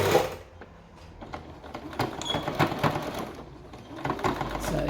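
Sewing machine stitching a small hem on a stretch-fabric T-shirt sleeve, with short bursts of rapid needle chatter and clicks separated by brief pauses, close and moderately loud, no voices.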